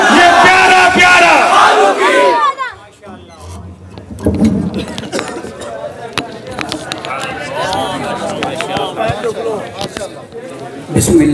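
A large gathering at a religious speech event roars slogans in unison, loud and massed at first, then breaking into a busy crowd murmur with scattered shouts and another swell at the close.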